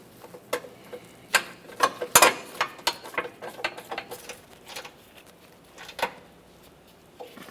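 Ratchet clicking in quick, uneven bursts while snugging subframe crossmember bolts on a 2007-2017 Jeep Patriot, sharp metallic ticks close by with brief pauses between pulls.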